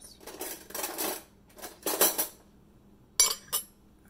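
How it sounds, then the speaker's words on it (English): Tablespoon clinking and scraping against dishes in a kitchen, several short metallic clatters in separate bursts, close and fairly quiet, with no talking. "I got a tablespoon"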